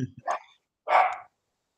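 A dog barking twice, two short close woofs separated by a brief pause, the second longer and fuller.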